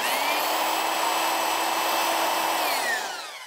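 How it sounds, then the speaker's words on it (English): An electric drill bores a hole in a painted can, a steady high-pitched whine lasting about three seconds before winding down at the end, close and loud with no talking. "I'm just drilling a hole up in here."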